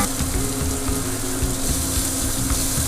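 Garlic sautéing in a pan for a pork ragout, a close, steady crackling sizzle with bubbling texture that stays even and unbroken, with no voices.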